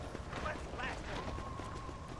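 Horse hooves clip-clop in Red Dead Redemption, a steady run of soft thuds beneath game sounds and a continuous hum, with a brief tonal whistle partway through.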